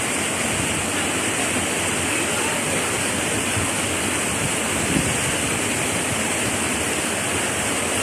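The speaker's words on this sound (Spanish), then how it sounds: "Ya se aprecia un poco mejor" Continuous roar of a waterfall at Cañón del Diablo, a steady broadband rush of falling water that stays loud and even throughout with no talk.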